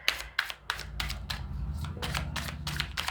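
Tarot cards from a Chakra Wisdom deck are shuffled in a run of about ten crisp, rhythmic riffling bursts, close and moderately loud over a faint low hum.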